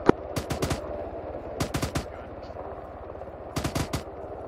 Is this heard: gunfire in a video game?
yes